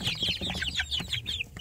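Kampung chicken chicks in a rearing box give a quick run of high chirps and soft clucks, close and fairly loud, with no voices.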